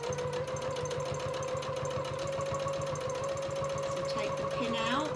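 Sewing machine stitching a fabric pincushion, running with a fast steady mechanical chatter up close, while a person talks over it near the end.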